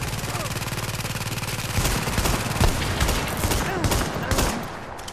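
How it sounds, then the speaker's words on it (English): Rapid automatic gunfire rattles from behind in The Division's Dark Zone, a loud close stream of shots that thickens into heavier overlapping bursts before easing slightly at the end. "Getting shot from behind."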